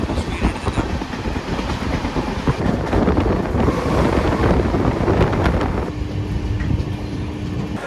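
The Cheran Superfast Express pulls into a station, its rumble and rhythmic wheel clatter close and continuous, mixed with wind buffeting the microphone before easing off near the end.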